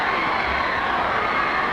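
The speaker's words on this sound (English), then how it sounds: "Getting a tremendous cheer from the crowd." A crowd cheers loudly and steadily at a 1963 women's 500 yard freestyle national AAU swimming championship, a dense roar of voices with shouts, heard alone.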